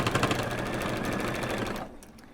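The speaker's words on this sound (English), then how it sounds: "I am sewing all of the little" A sewing machine stitching small quilt block pieces, running in a fast, steady whir close by for nearly two seconds before stopping abruptly into quiet.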